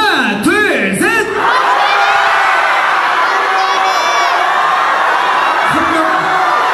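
A crowd of excited young fans at a school student festival fan event shouts out names of favourite idol group members all at once, loud overlapping yelling and whoops that carry on throughout, with a few shrill individual cries above the din.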